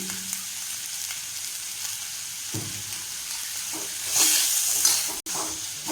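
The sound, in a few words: big onions sautéing with turmeric and salt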